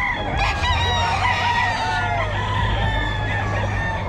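Chickens clucking and a rooster crowing, fairly close and steady throughout, with a continuous low hum underneath.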